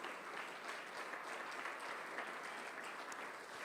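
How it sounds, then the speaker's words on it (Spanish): A church congregation gives sustained applause, a dense, steady wash of clapping that holds at an even level from start to finish with no speech over it. "Dale un fuerte aplauso al Señor Jesús."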